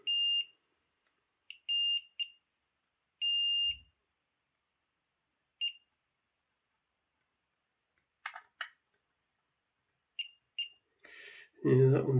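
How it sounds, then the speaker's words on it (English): Multimeter in continuity mode beeping while testing the wheel pickups of a Hornby Princess Coronation Class model locomotive, giving short and longer high tones in irregular bursts with faint clicks, and a voice starting at the end. "I'm just going to do a quick continuity test on this just to see what the pickups are doing."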